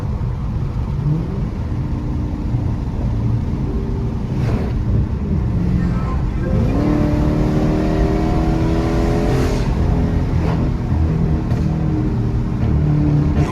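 A car drives along in traffic, its engine note steady and loud throughout, with a rising rev partway through as it speeds up.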